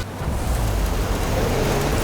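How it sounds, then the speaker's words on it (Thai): Heavy rain in a stormy Forza Horizon 5 race forms a dense, steady hiss with a low rumbling undertone and no clear breaks. "ฝนตกอีกแล้วนะครับ"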